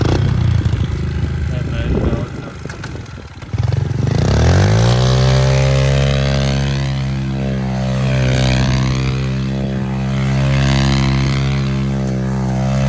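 Pit bike engine kicked over with a few rough attempts, then firing and revving up into a loud, buzzing, sustained drone that wavers in pitch, close by, with voices talking over the early part.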